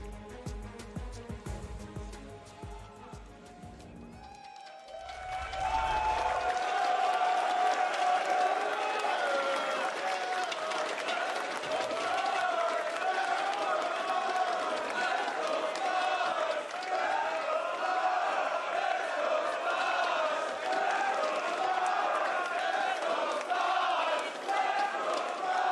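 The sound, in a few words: arena crowd cheering at League of Legends esports match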